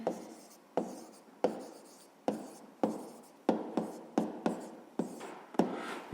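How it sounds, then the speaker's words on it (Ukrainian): Pen or pencil writing out a math answer on paper, a series of about a dozen short scratchy strokes, each starting with a tap, in a steady rhythm, close and quiet with no voices. "записуємо відповідь"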